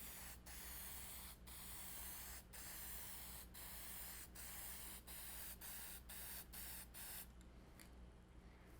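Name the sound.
spraying a coat of finish on a wooden cross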